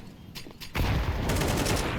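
A burst of rapid gunfire erupts partway through and continues loudly, with sharper quieter shots before it, in a Counter-Strike match.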